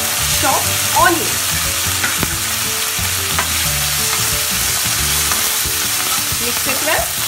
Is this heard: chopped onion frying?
yes